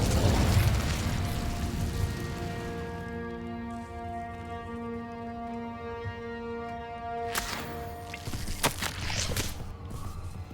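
Incendio fire spell cast in the Hogwarts Legacy video game, a loud whooshing burst with a sustained tonal drone afterward and several sharp crackling hits near the end.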